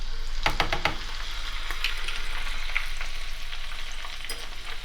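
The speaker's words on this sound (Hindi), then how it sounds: "इतना ब्राउन जब लहसुन हो जाए तो एक ग्रीन कटी हुई मिर्च है मेरे पास, वो डाल दूंगी इसमें" Chopped green chilli going into browned garlic in hot oil for traditional masoor daal, a steady sizzle and crackle with a few sharp spatters and stirring clinks, close and continuous with no talk.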